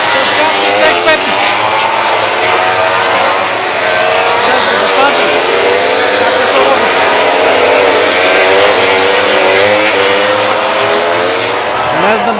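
Racing motorcycles roar past at an Asian motorcycle race, a loud continuous engine wail with rising and falling pitch sweeps as bikes pass close, with someone talking over the din.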